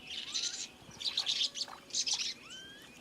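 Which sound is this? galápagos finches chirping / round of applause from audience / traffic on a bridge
galápagos finches chirping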